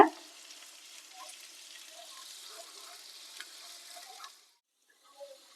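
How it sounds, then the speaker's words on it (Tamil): Sliced onion fries in ghee in a pan until golden brown, giving a soft, steady sizzle with faint stirring clicks, after an opening clatter; the frying cuts out near the end, leaving quiet with a few small knocks. "இந்த ஆனியனுடைய கலர் லைட்டா மாறணும் கோல்டன் ப்ரௌன் கலர் வர வரைக்கும் நல்லா இதில் ஆயிலே வறுத்து எடுத்துக்கோங்க சரி நெய்யிலே வறுத்துக்கோங்க"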